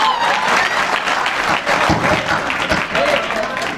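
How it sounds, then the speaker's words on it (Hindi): Audience applause at a Hindi kavi sammelan poetry gathering, a steady dense clapping from a large crowd lasting throughout, loud and close with no pauses. "और आप लोगों को तालियां बजानी ही होगी।"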